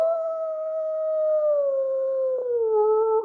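A person imitates a wolf howl, a single long sustained tonal wail that slowly falls in pitch with a small break near the end, close and clear with no other sounds.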